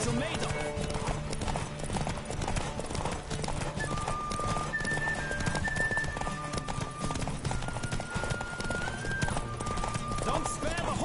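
Rhythmic clip-clop of galloping horse hooves with whinnies in the video game The Witcher 3: Wild Hunt, set against a busy music and sound-effect mix, with a voice speaking over it.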